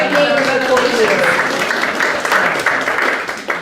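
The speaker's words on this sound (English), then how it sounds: "Give them a round of applause." Audience applauding neighbors at a historic landmark house dedication ceremony, a steady sustained clapping that fills the whole stretch at close range, with some voices mixed in.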